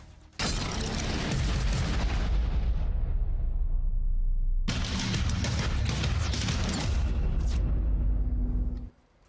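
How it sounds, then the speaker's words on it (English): Two massive explosions from a destroyed Russian military post in the Ukraine war, each a sudden deafening blast followed by a long rumbling roar lasting several seconds, the second starting midway. "that is the video of the explosion that seems to be taking place when a Russian post, as claimed by the Ukrainian army commander, was destroyed by them."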